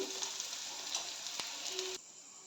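Soya chunks fry in oil in a thick pan, a soft, steady sizzle with a single brief knock, cutting off abruptly partway through, heard close and fairly quiet.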